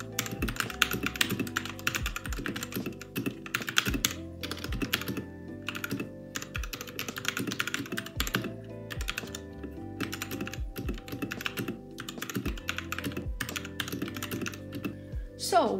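Rapid, steady clacking of keys on a Royal Kludge RK61 mechanical keyboard, close up and crisp, continuing without pause for the whole stretch with no talking.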